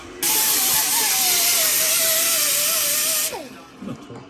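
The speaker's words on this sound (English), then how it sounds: "We're just going to get the drill with a wire wheel, mate. That'll clean up the bore" A drill spinning a wire wheel whines and hisses loudly for about three seconds at a steady pitch while cleaning scale from an engine bore, then winds down, followed by faint clattering.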